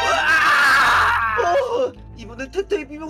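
A loud, sustained cartoonish scream in a Minecraft roleplay wails for about two seconds, then drops into short voiced yelps and murmurs.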